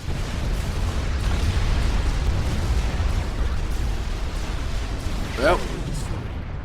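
A commander unit exploding in the strategy game Supreme Commander 2, a heavy, sustained rumbling blast with deep booms, under a player's voice.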